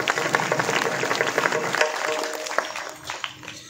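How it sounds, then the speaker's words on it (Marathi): An audience at a kirtan breaks into a burst of loud, dense clapping that carries steadily and then thins out toward the end. "जोरात टाळी वाजवा एकदा"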